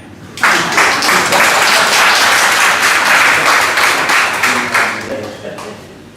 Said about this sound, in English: Another round of clap.